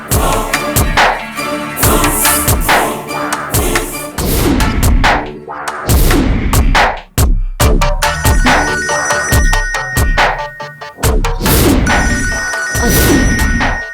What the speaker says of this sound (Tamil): அக்கா தான் ஃபோன் பண்றாங்க.